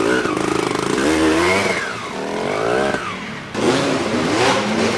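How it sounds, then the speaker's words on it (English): A Kawasaki 200 enduro motorcycle rides past during the 1993 Welsh Two Day Enduro. Its engine climbs and falls in pitch through repeated throttle swells, then a louder, close burst of revving picks up near the end. "Derek Barton riding a Kawasaki 200."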